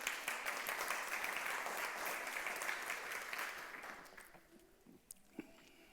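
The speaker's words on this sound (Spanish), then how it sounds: "Dele un aplauso al Señor." A church congregation at a Sunday service applauds steadily for several seconds, the clapping fading gradually toward the end with a few last scattered claps.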